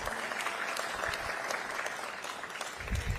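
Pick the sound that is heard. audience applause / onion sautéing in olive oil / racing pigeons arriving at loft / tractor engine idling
audience applause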